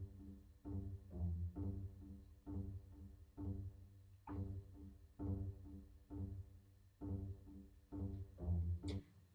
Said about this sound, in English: bass spizzicato sounds like this.